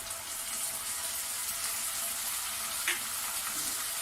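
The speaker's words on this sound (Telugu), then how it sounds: "ఒక స్పూను సోయా సాస్ ఒక స్పూన్ వెనిగర్ వేసుకుందాం" Soy sauce and vinegar go into chilli chicken frying in a pan, giving a steady broadband sizzle throughout with one brief sharper hiss partway through; no one speaks.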